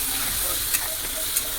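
Masala for ghiya kofta curry frying in oil with sugar added, a steady close sizzle and stir with two brief sharp scrapes of the spoon against the pan, no voices.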